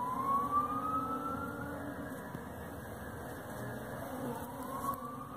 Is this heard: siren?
yes